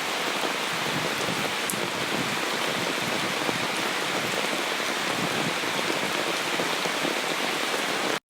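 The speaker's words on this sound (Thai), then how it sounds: "เดี๋ยวให้ดูนะครับว่าฝนตกเนี่ยที่หลังบ้านผมเนี่ยตอนนี้นี่น้ำไหลแรงไหมครับผม" Steady rain pours behind a house in Wang Nuea, Lampang, with water running strongly, a dense even hiss that stays loud and unbroken throughout before cutting off abruptly at the end.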